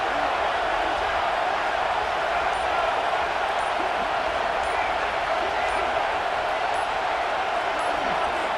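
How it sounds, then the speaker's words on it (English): Steady, dense crowd roar from a stadium in EA Sports College Football 26, a continuous loud wash of massed voices holding level throughout with no breaks or distinct cheers standing out. "The roar of the crowd trying to fuel this defense to keep them pinned in their own end."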